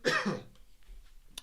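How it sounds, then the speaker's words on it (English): A single short, throaty cough is heard up close, followed by quiet. "I got a cough."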